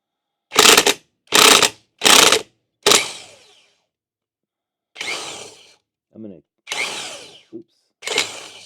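An impact gun tightens nuts with a socket on a Samurai: four loud, evenly spaced rattling bursts up close, then several shorter, quieter bursts after a pause.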